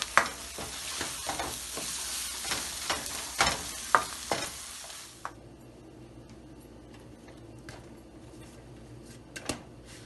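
Egg ghotala frying in a pan while being stirred, a soft sizzle with a run of utensil taps and scrapes that thin out into a quieter hiss with occasional clicks.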